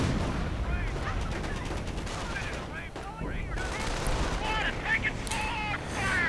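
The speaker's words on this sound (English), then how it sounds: "There we go, rockets arriving" Dense gunfire, machine-gun bursts and rocket artillery impacts from a WWII strategy game, a continuous loud barrage of rattling shots and blasts with no talk over it.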